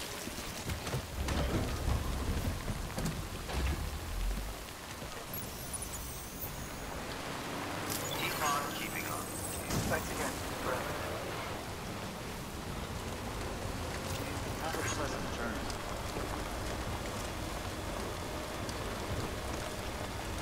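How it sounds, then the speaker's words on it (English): Rain falls steadily in the Death Stranding game world, a continuous soft hiss with occasional low rumbles like distant thunder, while a voice briefly speaks over it. "Oh, it's raining too."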